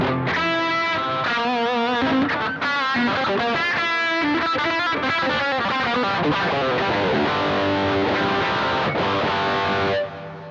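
An electric guitar played through a high-gain distortion tone, loud and saturated, with ringing chords and quick melodic lines that sustain across the whole passage before cutting off at the end.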